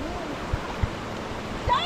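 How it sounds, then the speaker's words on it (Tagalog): Sea waves wash in at a beach as the surf grows stronger, a soft, continuous rush with a few brief low splashes and thumps, faint and near. "Lumalakas ang alon ha."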